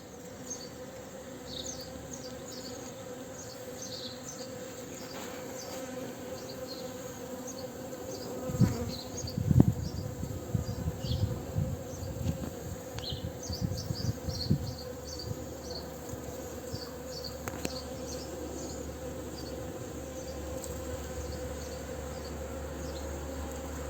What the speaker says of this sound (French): les abeilles qui se délectent déjà en cette fin de février sur mes jacinthes